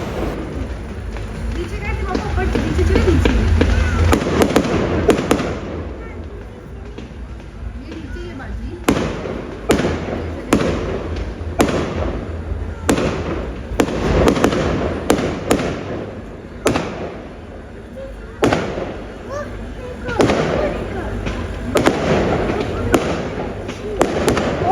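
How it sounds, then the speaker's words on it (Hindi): Bonfire Night fireworks crackle and boom in a steady barrage of sharp bursts over a busy crowd, with people talking and calling out throughout. "तो बस ये फायरवर्क स्टार्ट होने वाला था"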